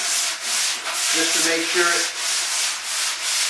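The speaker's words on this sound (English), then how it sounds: "we're going to go ahead and give it a quick sanding" A coarse sanding sponge rubs over dried spackle in close, rhythmic back-and-forth strokes, about seven passes in a steady cadence.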